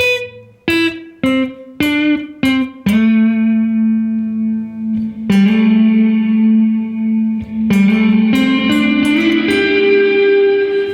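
Plucked guitar notes through a Sonicake Levitate reverb pedal on a small-room setting, with short, tight reverb: a few quick picks followed by ringing sustained chords that fade with little lingering tail.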